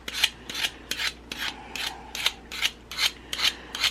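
Repeated rasping scrapes on dried air-dry putty covering a mannequin, about nine steady strokes in a regular rhythm, close and fairly loud with no talking.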